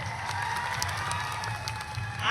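A crowd at a tribal youth community meeting claps steadily, with scattered cheers and voices mixed into the applause.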